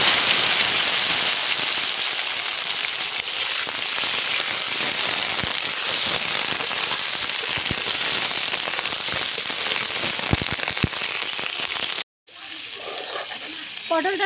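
Sliced pointed gourd fries in hot oil with a little turmeric, giving a dense, steady crackling sizzle up close that runs nearly unbroken before a brief cut near the end.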